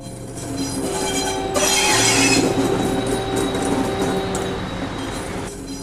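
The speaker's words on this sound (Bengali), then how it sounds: "দূর থেকে হুইসেলের শব্দ আসে। দূর থেকে দেখা যায় এক ধোঁয়া ঢাকা ট্রেন ধীরে ধীরে এগিয়ে আসছে।" A train rolls closer with a heavy rumbling roar that swells and holds steady, while high, drawn-out whistle tones sound over the clatter.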